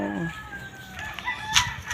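Fighting roosters at a coop being built for them cluck and crow close by, with short calls rising over a low background through the whole clip.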